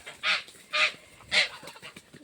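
Geese honk nearby in three loud, evenly spaced calls, with a quieter honk trailing at the end.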